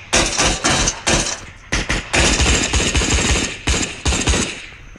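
Loud, close bursts of rapid automatic gunfire from the Roblox game Onestate RP, several volleys separated by short pauses, with no talk.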